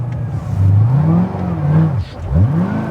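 A 2009 Corvette ZR1 with over 750 wheel horsepower revs hard up close, its loud engine note climbing and dipping in repeated swells, with a brief dip before another rising rev.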